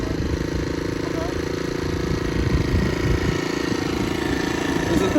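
Moped with an automatic transmission idles while warming up, giving a steady, loud, close-up engine drone with a faint rattle throughout and no talk.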